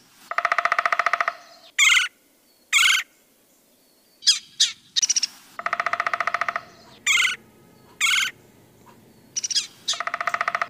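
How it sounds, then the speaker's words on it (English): An eagle calls in a series of sharp, high, rhythmic chirping bursts separated by short pauses, some clusters longer and trilled, others brief piercing yelps, loud and close against faint background hiss. "Eagle."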